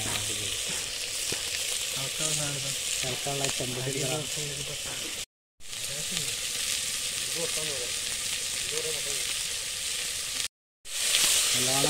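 Shallots fry in virgin coconut oil with a steady, dense sizzle and occasional stirring scrapes. Background music runs underneath, and the sound briefly drops out twice.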